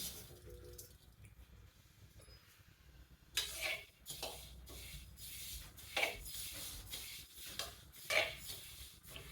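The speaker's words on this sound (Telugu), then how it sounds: "నువ్వులు ఏగినాయండి చిట్పట్లాడుతున్నాయి" Sesame seeds roasting in a dry pan over a medium flame, rubbed and stirred with a spoon in repeated scraping bursts, with light crackling ticks between strokes and no voices.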